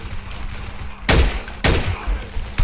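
Two sharp rifle shots crack out in the blocky shooter game Blockade 3D, each a loud broadband burst with a short decaying tail, about half a second apart, over a low rumbling game background.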